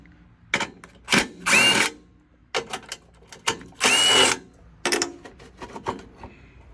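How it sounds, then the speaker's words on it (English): A power drill backs out three bolts from the fuel tank of a Tecumseh engine on a Craftsman machine, heard as short close bursts of whirring, the longest ones a second or so, separated by quiet pauses and small clicks. "You just take these 3 bolts off."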